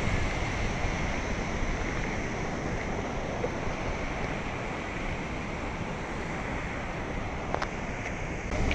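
Water pours steadily at Kondapalli waterfall and the Kilesapuram dam near Vijayawada, a continuous close rushing roar that stays even throughout, with no voices.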